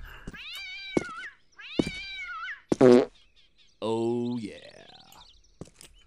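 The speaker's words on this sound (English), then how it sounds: "You farted." A comic fart sound effect from the video game Postal 2 plays as several long, pitched, squeaky blasts of different lengths. A cat-like wail comes in partway through.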